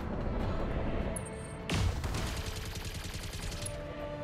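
Machine gun fire in the mech combat game Battletech, a dense continuous rattle of rapid shots with a sharper burst midway, steady and fairly loud with no talking.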